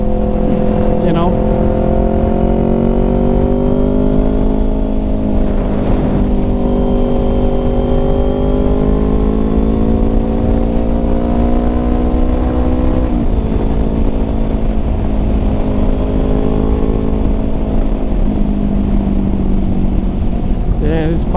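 A Kawasaki Ninja 400 motorcycle cruises at a steady pace under a loud, continuous engine drone, its pitch swelling and easing gently with throttle, close and dominant, with heavy wind rush underneath.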